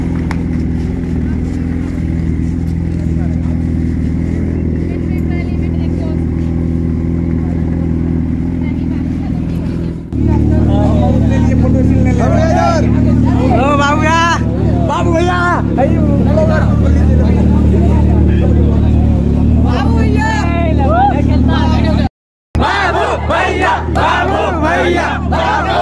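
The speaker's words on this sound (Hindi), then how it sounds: "ओ भाई साहब इस बाइक का आवाज सुनने में कितना मस्त लग रहा है।" A Suzuki Hayabusa motorcycle engine idles with a loud, continuous low rumble, with voices and crowd chatter over it; it briefly cuts out near the end.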